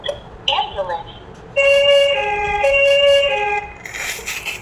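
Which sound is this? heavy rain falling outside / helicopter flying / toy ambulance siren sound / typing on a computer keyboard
toy ambulance siren sound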